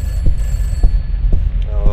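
A telephone rings in a horror video game: steady repeating pulses about every half second over a dull low rumble, with a brief tonal ring near the end.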